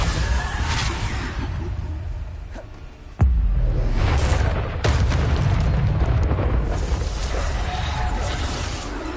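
Hogwarts Legacy's Bombarda spell detonates with a loud, booming blast and a rushing whoosh. The explosions roll over a continuous layer of game combat noise, and a heavy impact lands partway through.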